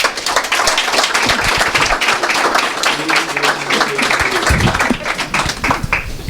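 Audience applause for speaker Gregory at a Startup Grind event, a dense, steady patter of many hands clapping that runs unbroken from start to finish, with a faint voice briefly heard under it.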